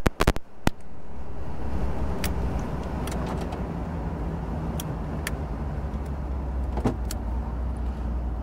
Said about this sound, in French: Les vitres électriques fonctionnent.